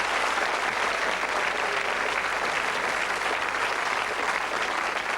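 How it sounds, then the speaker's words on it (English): Studio audience on the 1986 game show Blockbusters gives steady, dense applause, a continuous wash of clapping for the full five seconds with no one speaking over it. "Give him a round of applause."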